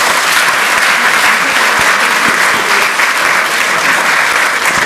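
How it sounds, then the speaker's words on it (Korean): Loud, dense applause fills a National Assembly chamber for a leader of the ruling party, a continuous crowd of clapping hands held at an even level throughout. "박수 한번 보내주시기 바랍니다"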